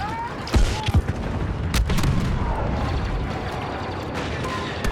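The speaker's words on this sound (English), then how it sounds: "Artillery, fire." Artillery fire during a battle on Crait in Star Wars Battlefront II, a few sharp thuds and booms over a dense rumble of combat noise.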